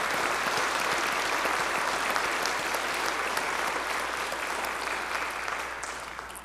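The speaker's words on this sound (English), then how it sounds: "let's give God a big hand clap of praise for John, all right?" A church congregation applauds with sustained hand claps of praise, a dense, steady wash of many hands that tapers slightly toward the end, with no talking over it.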